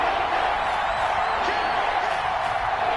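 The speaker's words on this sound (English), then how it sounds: "The crowd getting into it as we come up on a big 3rd down." A stadium crowd roars in a football video game broadcast ahead of a big third down. It is a steady, even wash of cheering that holds at moderate loudness without breaks.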